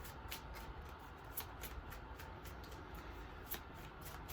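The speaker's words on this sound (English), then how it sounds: "Like the video while I shuffle the cards" Soft, steady riffling of tarot cards being shuffled, with light papery flicks and taps recurring throughout over a quiet background.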